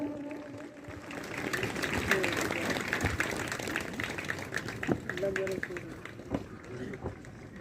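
Steady applause from an audience at a UP Police passing out parade on a parade ground, a dense clapping wash that holds throughout beneath an announcer's amplified voice.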